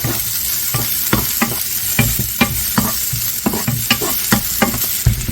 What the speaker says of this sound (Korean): 이 후라이팬 그대로 쓸 거예요. 파를 먼저 넣어줘서 파향을 끌어올리겠습니다